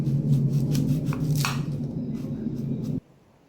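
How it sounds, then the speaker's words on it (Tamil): Tapioca (cassava) being cut into small pieces with a knife, soft repeated chopping taps over a steady low hum that cuts out abruptly near the end. "சின்ன சின்னதாக கட் பண்ணி தோல் எடுத்துக்கலாம்"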